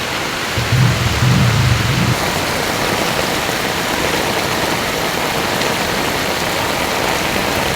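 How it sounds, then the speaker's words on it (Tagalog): Big sea waves crash along the shore during Typhoon Uwan, a steady broadband roar of surf and wind with a deeper rumble in the first couple of seconds. "Ramdam ang bagyong uwan sa lalaki ng alon"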